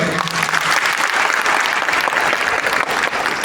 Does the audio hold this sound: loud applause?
yes